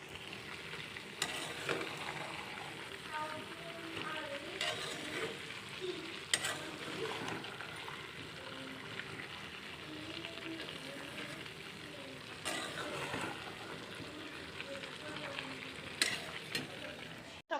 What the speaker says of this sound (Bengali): আজকে আমি সরিষার তেল দিয়ে ছোলাটা রান্না করছি